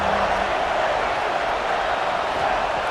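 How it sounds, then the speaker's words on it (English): A college football stadium crowd at a USC Trojans versus Illinois game, roaring loud and steady on a third down, a continuous wash of cheering and noise with no break. "Third down, and the crowd really getting into it."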